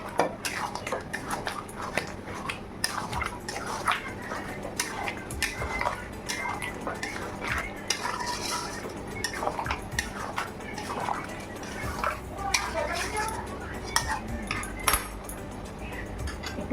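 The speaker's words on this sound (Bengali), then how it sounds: "এবার কাশ্মীরি লঙ্কার গুঁড়ো দিয়ে আমি ঘুটে দেবো।" Chicken chaap being stirred in a pan with Kashmiri chili powder, giving repeated close scraping and clinking of a utensil against the pan in an irregular rhythm that runs throughout.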